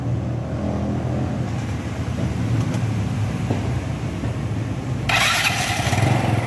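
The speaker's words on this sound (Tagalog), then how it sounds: "so papandarin lang natin yung motor" A Yamaha Mio Soul 115 scooter engine runs at a steady idle, loud and close, with a sharp hiss of higher noise joining near the end.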